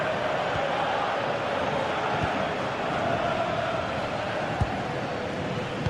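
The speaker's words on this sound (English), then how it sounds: "Well, just listen to this crowd." A stadium crowd in a soccer video game roars as one steady, dense wall of noise, with a few faint thuds and no clear voices on top.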